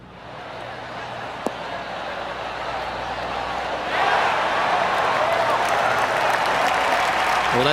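Golf gallery crowd in PGA TOUR 2K23 on PS5 cheering and applauding after a shot, a steady wash of clapping that swells louder midway, with commentary voices over it.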